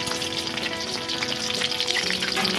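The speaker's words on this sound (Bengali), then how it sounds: "এবার পোলাওটা রান্না করার জন্য পেঁয়াজ দিচ্ছি। সাদা তেল দিয়ে দিয়েছি, কড়াই গরম হয়ে গেছে।" Onions and slit green chillies sizzle in hot white oil in a heated kadai for pulao, a steady, close crackling hiss that runs unbroken with no voices.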